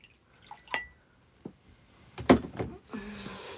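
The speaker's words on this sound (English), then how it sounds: "I need to get a glass of water." Someone gets a glass of water: a few separate clinks of glass and small knocks, then a brief pour of liquid, all fairly close and quiet in a still room with no talking.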